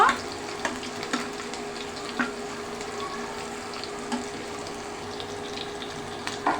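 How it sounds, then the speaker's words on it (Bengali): Onion and green chillies fry in a pan, a steady low sizzle running throughout with occasional soft clicks and scrapes of stirring, no voices. "পেঁয়াজটা ভাজতে দিয়েছি আমি পেঁয়াজ দিয়েছি আর কাঁচামরিচ দিয়েছি"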